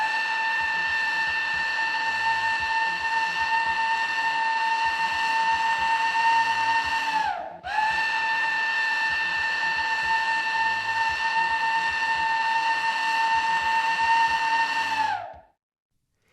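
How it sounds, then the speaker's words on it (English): Two long blasts from a refinery's emergency steam whistle sound the Lion Oil evacuation signal, each a loud sustained tonal wail of about seven seconds, separated by a brief gap, the second ending in a falling tail. "The evacuation signal is 2 long blasts of the emergency steam whistle."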